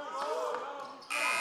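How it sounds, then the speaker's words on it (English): At a high school basketball game between Hoosac and Bishop Walsh, a loud end-of-quarter buzzer blares suddenly after a stretch of arena noise and commentary. "they actually do not get a shot off before the buzzer"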